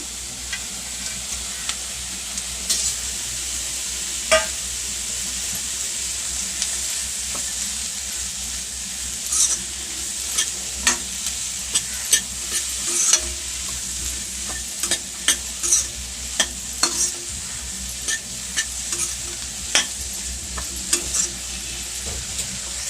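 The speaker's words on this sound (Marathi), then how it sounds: "त्याचबरोबर मी आता इथे काजू टाकते" Cashews fry in a pan for paneer butter masala, producing a steady close sizzle punctuated by frequent scraping stirs and light metallic taps of a spoon, sustained for over twenty seconds without talk.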